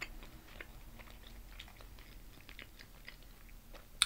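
Fufu and plantains are eaten in a mukbang, with quiet, close, soft wet chewing bites and a sharp crunch right at the end, without talk.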